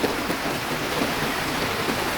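Steady, dense typhoon rain hisses without pause, a loud, even wash of falling water.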